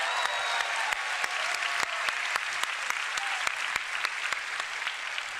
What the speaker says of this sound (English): Give a round of applause for Chocobos.